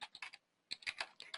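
Two quick bursts of typing on a computer keyboard, close and crisp clacking keystrokes separated by a short pause, with no talking.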